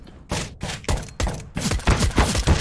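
Rapid bursts of automatic gunfire in the video game CS:GO, several close, punchy shots in quick succession that build into a dense fusillade, with no talking.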